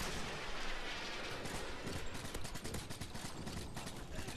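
Gunfire in Call of Duty, a dense stream of rapid, overlapping shots and bursts that stays steady and loud throughout with no voices.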